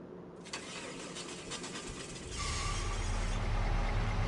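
A tractor engine in Farming Simulator 25 cranks over and catches, settling into a loud, steady low idle after about two seconds of starter whir.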